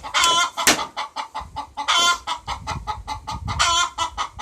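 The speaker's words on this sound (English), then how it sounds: "I got some crazy birds in here." Pet chickens indoors cluck and squawk in loud, repeated, agitated bursts close to the microphone, with rapid rhythmic calls throughout and no talking.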